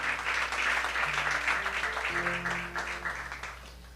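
A church congregation claps loudly and steadily, a dense wash of applause that fades toward the end, with music playing underneath.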